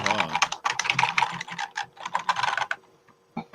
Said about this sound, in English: the first thing we hear on the stream is Maureen's typing